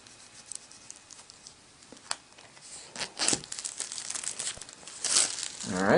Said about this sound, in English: I'm going to use my trusty cutter here and cut through this plastic